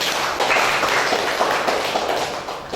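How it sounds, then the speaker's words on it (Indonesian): A classroom of students gives a round of applause, a dense, steady patter of many hands clapping together close by for the whole stretch, without pause or talk. "Sekali lagi kita berikan tepuk tangan."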